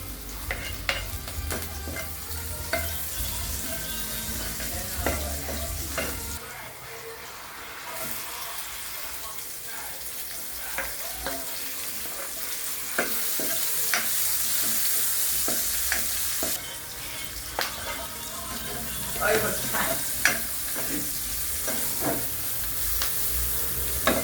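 Sautéing in a pan of oil for eggplant in coconut milk, a bright steady sizzle with frequent utensil scrapes and taps and a brief pause partway through, close up and without voices.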